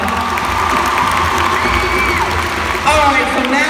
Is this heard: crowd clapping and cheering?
yes